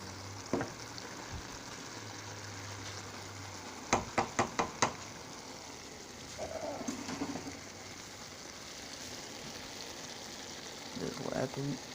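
Save-A-Lot Skillet Masters beef stroganoff, a store-brand Hamburger Helper made with browned hamburger, sizzles quietly in a skillet. A quick burst of knocks from the pan comes partway through, and brief stirring scrapes follow.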